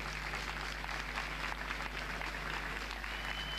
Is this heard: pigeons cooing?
no